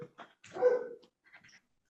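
Dogs bark in a few short, close bursts indoors, one louder bark in the middle, then faint yips trailing off, with no talking.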